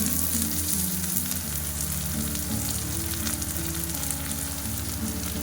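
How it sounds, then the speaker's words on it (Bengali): Chopped onion sizzles steadily in a frying pan alongside browned garlic, a dense continuous crackle with faint stirring underneath, close and even throughout. "এরপরে আমি এখানে কুচিয়ে রাখা পেঁয়াজটা দিয়ে দেব।"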